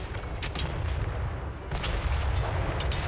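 Battlefield artillery in Total War: Warhammer 3 with Grand Cathay forces, a rolling wall of booming cannon fire with a couple of sharper blasts standing out, loud and continuous with no voices.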